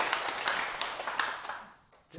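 An audience at a Korean lecture claps on request, a dense burst of applause that holds steady for over a second and a half, then thins and fades out near the end.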